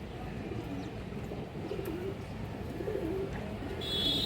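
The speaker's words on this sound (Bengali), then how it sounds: "আর একটা বাঘা মাদি কবুতর" Pigeons kept for sale, among them a large female, coo faintly now and then against a steady background murmur, with the coos rising slightly near the end.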